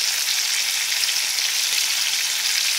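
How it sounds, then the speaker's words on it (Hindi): Stuffed green chillies fry in a pan, producing a dense, loud, unbroken hiss of sizzling oil that stays even throughout and sounds close, with no speech. "ये देखो, खुद बहुत फ्राई होना शुरू हो गई है"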